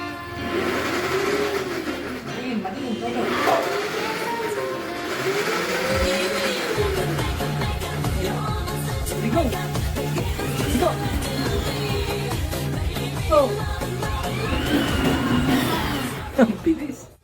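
A 24V rechargeable ride-on toy car with a variable speed pedal drives along, its electric motor giving a steady, rhythmic whine and pulsing drone that rises as it speeds up, close and fairly loud.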